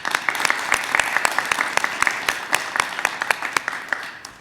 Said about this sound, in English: If we could pause for a moment of applause for our social workers